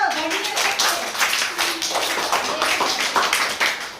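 Children clapping at a primary school summer camp activity, rhythmic group claps in an indoor space with voices mixed in alongside.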